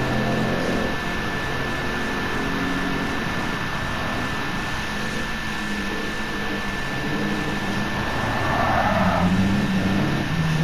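A 1965 Aston Martin DB5 with a 4-litre engine drives in Gran Turismo 7, a steady loud engine drone with a constant pitch that swells slightly near the end, without talk.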